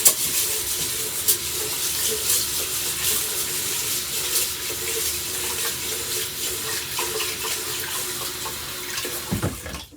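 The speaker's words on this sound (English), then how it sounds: "I like to rinse my rice 3 times, and I just swish it around." Uncooked rice is rinsed and swished around in a bowl of water, giving a steady close wash of sloshing and trickling water with a few sharper splashes near the end.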